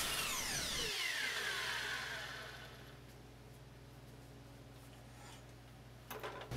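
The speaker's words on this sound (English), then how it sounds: "Now I can take the whole assembly to the miter saw and make the miter cut." A miter saw finishes a miter cut through a plywood assembly, its loud whine winding down over about two seconds and leaving a faint hum, followed near the end by a brief clatter.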